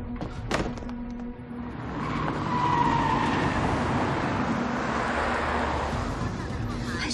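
Passenger train in a thriller setting, heard as a continuous loud rumble with broad rushing noise that swells after a couple of seconds and holds steady.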